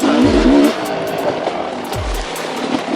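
A 2019 Sherco 300 SE dirt bike engine with the throttle opened, two rising blips of engine noise over steady wind and rolling rumble, fairly loud and close.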